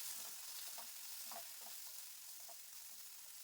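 Chunky capsicum pieces fry in oil for dhaba-style chilli chicken, a soft, faint sizzle with a few light stirring taps scattered across it.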